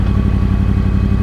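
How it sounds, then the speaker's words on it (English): A 2013 Yamaha R1 engine runs with a loud, close, steady throb, its uneven firing pulses giving a rough, rhythmic growl with no pauses. "There's not many bikes on the market that can boast having this unique engine sound."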